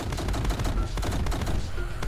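Game gunfire rattles in rapid, dense bursts during a Tower Unite infection round, loud and close, with several overlapping shots and faint voices mixed in.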